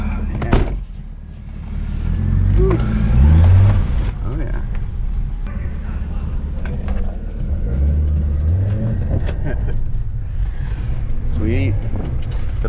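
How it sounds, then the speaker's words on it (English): A 2009 BMW 335d diesel drives off and accelerates, its low engine rumble rising and easing in a few surges, heard from inside the car under steady talking. "let's take the 335 for its initial test drive."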